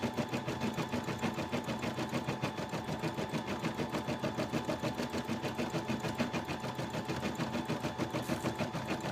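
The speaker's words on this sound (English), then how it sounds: "I will show you how it converts back to a regular sewing machine." A sewing machine runs steadily, its needle stitching in a fast, even mechanical rhythm, close up and continuous.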